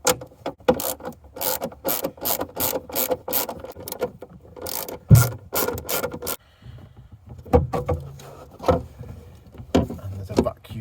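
Someone undoes two 7/16 bolts on the exhaust of a Jaguar XJS V12 with a ratchet, giving a run of quick close clicking bursts. Pauses and some rubbing break up the clicking.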